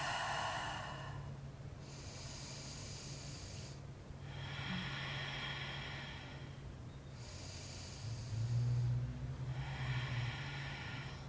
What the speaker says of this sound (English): And of course, breathing.